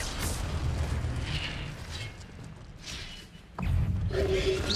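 An Incendio fire spell goes off in Hogwarts Legacy as a muffled booming thump that swells suddenly after a brief lull, set within ongoing game noise with a voice present.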